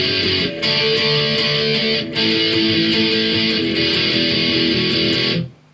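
A heavily distorted electric guitar plays the bridge of a song, with dense sustained power chords broken by brief pauses. It rings loud and close, with no voices, before cutting off at the end.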